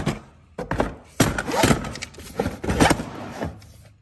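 A homemade Harbor Freight battery box lid is worked shut with a series of close, loud plastic thunks and knocks, irregularly spaced.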